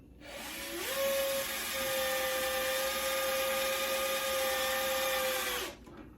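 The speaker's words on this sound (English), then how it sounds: "One of the problems with drilling into plastic is it gets hot and starts to melt" A steady motor whine from a drill boring into plastic on a wood steering wheel, running at constant speed, starting abruptly and holding for several seconds before cutting off, close and loud with no talking.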